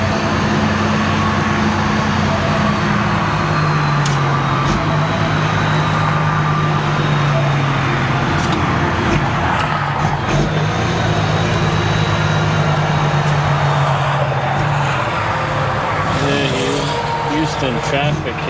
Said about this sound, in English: Houston traffic is ruthless